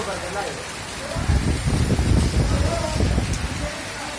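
Heavy rain pours down outdoors in a dense, constant hiss with a deeper drumming of drops on surfaces building in the middle, loud and close.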